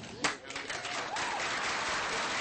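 Crowd cheering and applauding, a broad, steady wash of clapping and voices with one sharp burst near the start, sustained at moderate distance.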